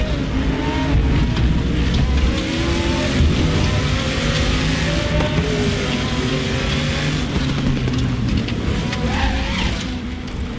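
A Group 5 classic race car in the RaceRoom racing game roars continuously at high revs, engine note rising and falling through gear changes with tire squeal on the Nurburgring Grand Prix circuit, loud and close without any talk.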